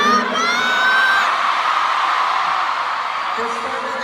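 Concert crowd of fans screaming and cheering at an OPM concert, a loud sustained roar with high shrill screams at the start that gradually eases, filling the whole clip.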